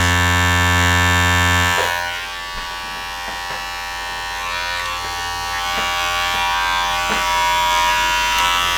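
A cheap cordless electric hair clipper hums loudly and steadily, its buzzing tone shifting slightly after a couple of seconds as it keeps running.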